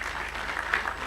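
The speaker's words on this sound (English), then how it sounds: "Please clap for them." Brief burst of audience applause at a launch event for an education organisation, dense and steady clapping from a crowd in a hall, with no talk over it.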